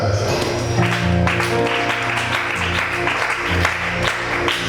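A church congregation claps together in sustained applause, steady dense patter with music or voices underneath, close and continuous throughout.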